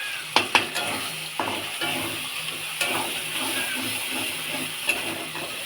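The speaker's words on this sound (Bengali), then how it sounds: "মশলাটা দিয়ে দিলাম, মশলাটা এবার একটু কষিয়ে নিই।" Spices sizzle and hiss in hot oil while being stir-fried for a chicken curry, with a spoon scraping and clacking against the pan at intervals over the steady frying noise.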